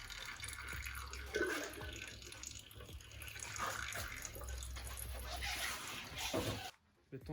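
Engine oil draining from the forged block of a Ford Mustang, a faint steady trickling stream with small drips and clanks in a quiet workshop, ending suddenly.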